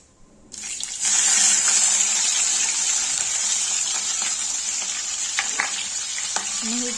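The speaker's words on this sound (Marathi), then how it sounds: "हिरवी मिरची आणि लसूण जे चिरलेलं आहेत आपण तो टाकूयात आणि थोडं लालसर होऊ द्यायचं त्याला" Green chillies and chopped garlic hit hot oil with a sudden, loud, steady sizzle that carries on unbroken, with faint stirring clicks and scrapes near the end.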